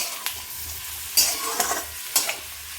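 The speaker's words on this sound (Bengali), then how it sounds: "মাশরুমটা দিয়েও আমি কিছুক্ষণ ভেজে নেব মোটামুটি চার থেকে পাঁচ মিনিট" Sliced mushrooms fry with onion in a hot pan, giving a steady close sizzle broken by a few sharper stirring scrapes, with no voices.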